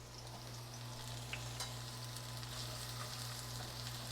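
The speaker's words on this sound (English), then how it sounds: "So let's go ahead and add our shallots. Oh yeah, perfect. Olive oil and shallots," Shallots frying in shimmering olive oil in a pan, a steady soft sizzle and crackle with a faint low hum beneath, quiet and continuous with no talking.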